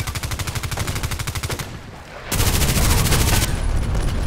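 Rapid automatic gunfire from the Contract Wars online shooter game, loud close bursts of repeated shots, a brief lull, then a denser, heavier volley continuing to the end.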